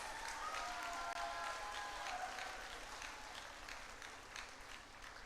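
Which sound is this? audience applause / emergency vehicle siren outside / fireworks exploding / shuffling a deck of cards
audience applause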